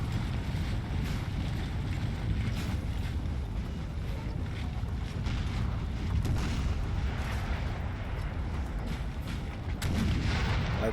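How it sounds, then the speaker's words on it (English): Artillery fire in the video game Napoleon: Total War, a dense, continuous rumble of distant cannon booms under steady wind-like noise, with occasional sharper reports breaking through over eleven seconds. "Prussians are going to win this artillery fight"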